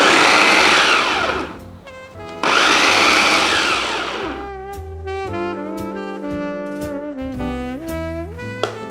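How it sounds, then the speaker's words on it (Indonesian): Electric food chopper whirs in two loud bursts while finely mincing 50 grams of broccoli for vegetable meatball filling, followed by a stretch of steady background music. "Kalau yang ini akan aku chopper karena harus teksturnya halus-halus untuk bagian dalam bakso."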